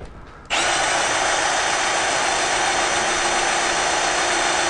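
A power drill with its bit cutting through a steel nail embedded in wood whirs up suddenly and then holds a loud, steady, high-pitched grinding whine for several seconds.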